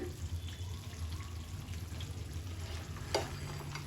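Crab masala stirred in a pan over high heat, a soft, steady frying hiss with faint scraping and a single brief metallic clink.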